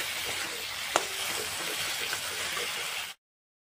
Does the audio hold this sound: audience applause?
no